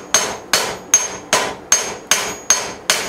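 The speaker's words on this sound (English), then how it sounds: "we're going to hit this thing with a fuller hammer." A fuller hammer strikes hot metal on an anvil while forging a Dutch oven lid lifter. Eight loud, ringing blows fall at an even rhythm, each one decaying quickly before the next.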